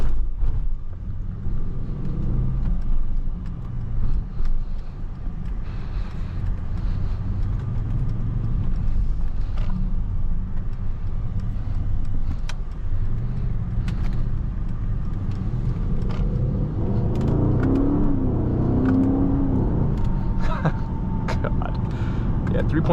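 A 2021 Mercedes-AMG GLE 63 S SUV accelerates, its engine a low steady rumble from inside the cabin that swells late on, with someone talking over much of it.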